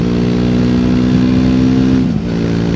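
A 2024 Triumph Speed 400 engine revs high and holds steady while riding on the road, loud and close, then dips briefly near the end.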